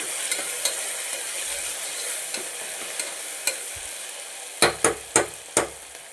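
Pieces of mango cook in a pan with a steady low sizzle, broken by sharp scraping knocks from a stirring utensil that grow louder and come in quick succession near the end.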